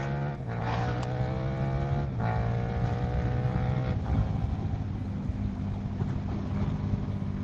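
A KTM SuperDuke 1290 motorcycle on the road, its engine note climbing through repeated pulls under heavy, steady wind rush, loud and continuous.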